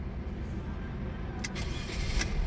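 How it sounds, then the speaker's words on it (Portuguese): A 2024 Fiat Strada Ultra with a turbo engine starts: a short starter crank and catch, then a steady idle that swells slightly, heard from inside the cabin with a couple of sharp clicks. "Fiat Strada Ultra em funcionamento"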